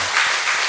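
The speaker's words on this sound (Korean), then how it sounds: "다시 한번 뜨거운 박수로 환영하겠습니다." Warm welcoming applause breaks out in a church service, a brief, bright burst of many clapping hands, fairly loud and steady with a slight swell midway, heard alone.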